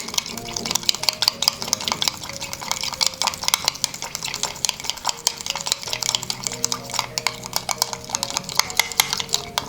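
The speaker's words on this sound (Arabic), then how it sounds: "غادي نمزج هاد العناصر مزيان" A spoon stirs vegan sauce ingredients, spice and lemon juice, in a bowl, producing rapid, continuous rhythmic clinks and scrapes at close range, lively and unbroken throughout.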